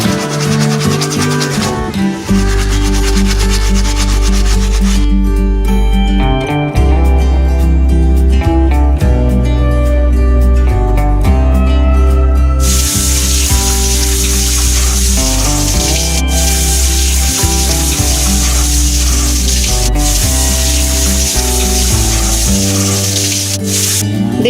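Kitchen items being rinsed under a running tap after scrubbing with dish soap, with a steady loud rush of water hitting the sink that continues throughout.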